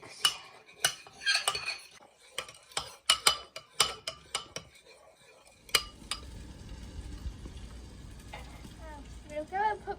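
Smoked paprika and garlic are mixed on a spoon in an outdoor kitchen, heard as a cluster of quick metallic clinks and scrapes that give way to a soft sizzle and background noise, with faint voices.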